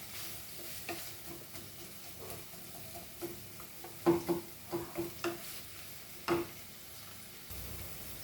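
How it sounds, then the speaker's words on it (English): Onions fry in a pan for Goan sausage pulao, a soft steady sizzle broken by several scraping stirs and utensil clinks against the pan, close and with no talk. "So now the onions are fried nicely."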